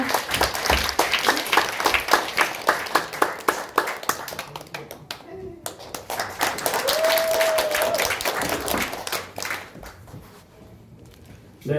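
An audience in a small Insadong theater claps to welcome a speaker to the stage, a close, rhythmic burst of hands that thins out and fades over several seconds.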